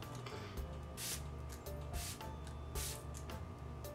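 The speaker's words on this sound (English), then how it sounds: "So this is the primer water. Let's just see what the spray is like." A spray bottle of primer water gives several short, faint hissing bursts, roughly one every second or so, close by and quiet.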